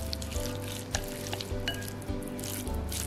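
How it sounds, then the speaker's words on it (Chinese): Seasoned mushroom filling with chopped scallion, salt, oyster sauce, light soy sauce, pepper and sesame oil being stirred in a bowl, a steady close scraping and mixing with soft wet clicks and a few sharper knocks, no talking. "将它搅拌均匀。"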